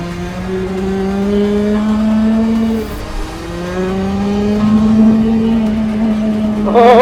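A shifter kart with two gears and paddle shifters races around Asia's largest kart track, its engine note climbing steadily, dropping off near three seconds, then rising again through repeated high-revving pulls, loud and close throughout.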